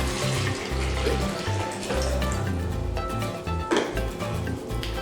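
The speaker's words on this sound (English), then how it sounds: "So we're gonna go ahead and pour in our warm water." Warm water poured from a container into a mixing vessel while making homemade bubble solution; a continuous splashing pour runs throughout, close and fairly loud, with a few clinks of the container.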